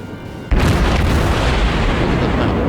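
A warship's broadside in World of Warships, fired toward an island, lands as one sudden heavy boom that rolls straight into a loud, sustained roar of gunfire and blast noise.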